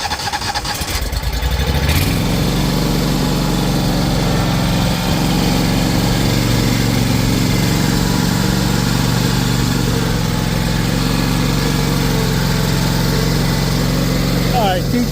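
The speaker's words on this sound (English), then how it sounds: "I'm going to focus on the mowing." Lawn mower engine running steadily while mowing a customer's lawn, a loud continuous droning hum that starts up after a brief rustle and holds for the rest of the clip.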